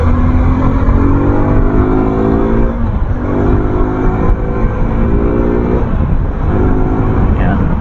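Suzuki V-Strom 250SX motorcycle accelerating, a loud close engine note rising in pitch through several gear pulls, with a voice talking over the engine and heavy wind rush.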